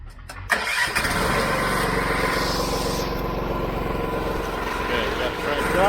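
Engine of a soft wash unit cranking and catching, then running at a steady, loud idle that fills the rest of the stretch, with no voices over it.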